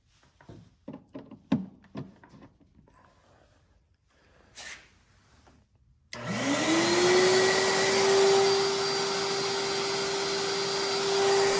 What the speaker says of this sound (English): The shop vac sounds normal